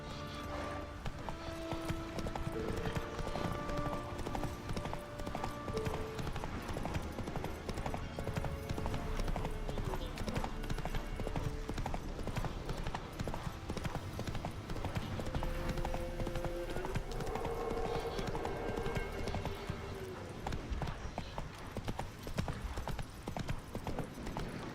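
Steady, rhythmic clip-clop of a horse's hooves while riding in The Witcher 3, continuous and close over the whole stretch, with game music and faint ambience underneath.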